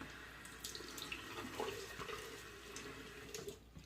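Water runs from a bathroom tap during a shave, a quiet steady splash into the sink with small knocks and clinks over it, and no voices.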